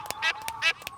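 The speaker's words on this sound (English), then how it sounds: "And now the ducklings have hatched." Cartoon ducklings quack in quick succession, bright nasal calls close up and repeated several times within a second, with no talk over them.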